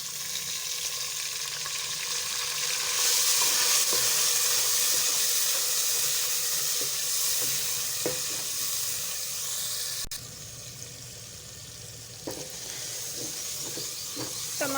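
Tomatoes added to browned garlic and onion in a pot for a chicken and mash daal dish: steady, loud frying sizzle and hiss with occasional stirring clicks, no talk.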